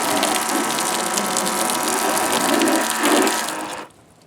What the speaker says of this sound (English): Definitely pumping some water.